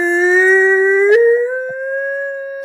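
A person's voice imitates a hand-cranked air raid siren with one loud, sustained, rising wail that dips slightly partway and then holds steady.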